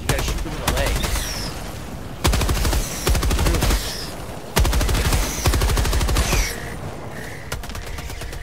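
Video game gunfire aimed at armored enemies: repeated bursts of rapid automatic shots, loud and close, broken by short pauses, with a voice talking between the volleys.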